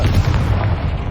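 A Confringo explosive spell goes off in the video game Hogwarts Legacy, a loud, deep, booming blast that fills the brief moment alone.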